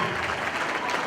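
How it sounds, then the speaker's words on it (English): An audience applauding after a school jazz alumni concert, dense continuous clapping from a full room, brief and steady at close range. "I know you want to keep applauding, but we got a lot to do."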